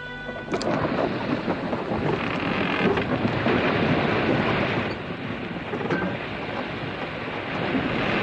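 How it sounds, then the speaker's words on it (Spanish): A heavy thunderstorm with pouring rain sounds as a dense, continuous roar of downpour and rumbling thunder, steady and loud for several seconds with no voices. "Eran aproximadamente las 6 de la mañana cuando nos alcanzó la galerna, acompañada de lluvia"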